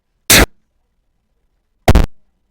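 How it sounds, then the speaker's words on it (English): Two short synthesized explosion effects from a BFXR-style generator burst out loud and harsh, each a sharp noisy blast with a quick fading tail, separated by about a second and a half of silence. "Okay, so I have 3 explosion sounds I'm going to bring into my project."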